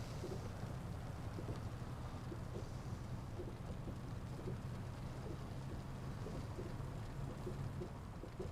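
Steady rain in the Outback Australia Truck Simulator video game, a continuous dense hiss with low rumbling underneath, evenly loud throughout with no talking.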